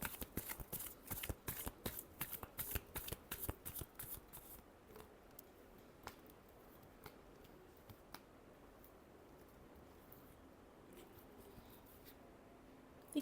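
Tarot cards are shuffled close by in a quick, rhythmic run of riffling flutters that fades into a few soft, sparse taps and slides.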